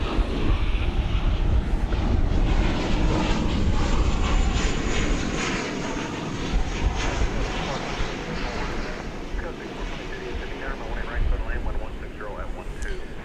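An American Airlines Boeing 737 on the DFW Airport runway roars loudly and steadily with a broad jet engine rush, the sound holding strong throughout.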